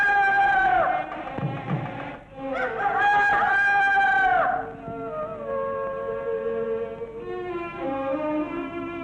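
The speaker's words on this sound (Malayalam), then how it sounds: "കോഴി കൂവിയത് കേട്ടില്ലേ?" A rooster crows loudly and nearby in long, drawn-out calls, with a few shorter fowl cries after it.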